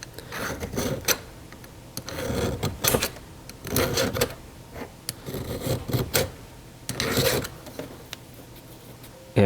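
A hand file rasps at a burr on a chainsaw chain drive link in a series of about six short, rhythmic scraping strokes separated by brief pauses, close and fairly loud.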